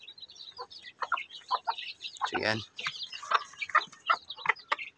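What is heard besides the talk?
hen and chicks clucking in brooder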